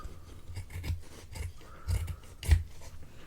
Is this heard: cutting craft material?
yes